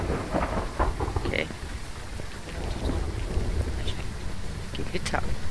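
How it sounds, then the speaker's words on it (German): In the video game Phasmophobia, steady rain patters throughout with low rumbling thunder beneath, and a short spoken word cuts in briefly over the storm. "Gewitter."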